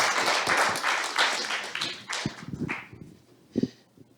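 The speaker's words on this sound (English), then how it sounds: "Okay, clap please." An audience at an African health and economic conference claps, a dense patter of hands that fades out over a few seconds, leaving a few scattered, closer claps at the end.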